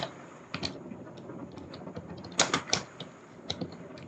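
Light, scattered keystrokes on a computer keyboard while basic Python code is typed, soft irregular clicks with short pauses, fairly quiet and without speech.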